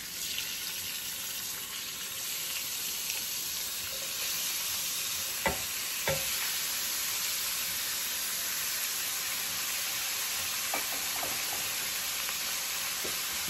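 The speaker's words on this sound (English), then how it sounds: "We're gonna add the chopped meat" Chopped meat sizzles steadily in a pot for homemade chili, a constant loud frying hiss with a couple of brief utensil clinks partway through, no talk.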